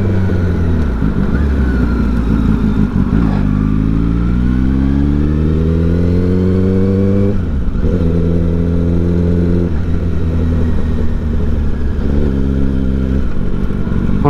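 A crashed Kawasaki ZX10R sport motorcycle accelerates hard on a public road, its engine loud and close, rising in pitch through several gears with clear dips at each shift.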